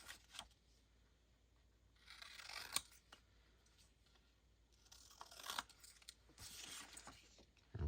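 Scissors snip paper strips for a journal collage, with quiet crisp cuts and rustling paper in several short bursts, close and faint, with no talk.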